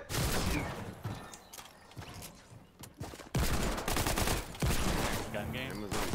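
Gunfire in the Fortnite video game: rapid bursts of automatic shots crackle in loud clusters separated by brief pauses, with players talking over the action.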